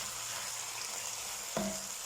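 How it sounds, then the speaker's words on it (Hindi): Chicken sizzling and frying in a pan with garlic, a steady hiss throughout and a brief louder burst of sizzle near the end as something is stirred or added. "2 से 3 मिनट हो गए हैं चिकन को फ्राई करते हुए।"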